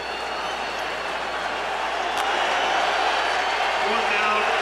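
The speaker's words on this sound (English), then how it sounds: "Crowd rising" A stadium crowd at a Redskins at Cowboys NFL football game in 2005 keeps up a broad, steady roar that swells slightly louder toward the end, with a commentator talking over it.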